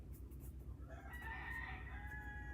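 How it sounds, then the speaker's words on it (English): Roosters crow at roosting time, a drawn-out cock-a-doodle-doo ringing out at middle distance over a constant low hum, with faint clucking around it. "I guess the roosters are all calling their buddies and saying, come on, let's go to bed."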